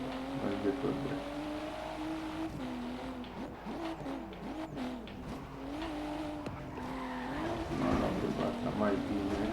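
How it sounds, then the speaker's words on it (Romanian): A car in Forza Horizon 3 brakes hard and its tires squeal and skid through a missed curve, the engine droning steadily while someone talks over the noise. "Trag blană, pun frână și nu ia curba."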